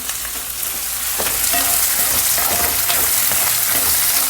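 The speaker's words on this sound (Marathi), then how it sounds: "कांदा थोडा लालसर येतपर्यंत फ्राय करून घ्यायचा आहे आपल्याला बघा" Onion and green chili fry steadily in a pan with a continuous close sizzle, joined by occasional stirring scrapes throughout.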